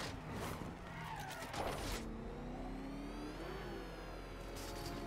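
A car drives and skids in the Batman Arkham Knight video game, tires screeching briefly over a humming engine that whirs and revs steadily afterward, fairly quiet overall.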